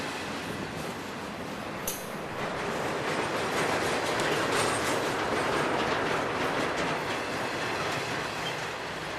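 An empty CSX freight train led by SD50-2 diesel locomotives rolls past steadily and loudly, a dense continuous roar with rhythmic clicking of wheels over rail joints and a brief high squeal early on.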